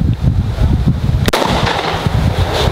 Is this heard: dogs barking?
no